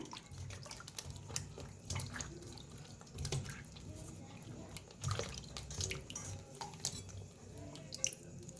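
Eggplants being washed by hand under running water for a stuffed eggplant dish, with a steady close trickle, splashes and rubbing of the vegetables, fairly quiet with no talking.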